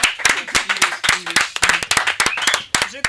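A small studio group claps for a singer's birthday during a morning radio interview, sharp distinct hand claps in a quick uneven rhythm, close by, with brief voices between them.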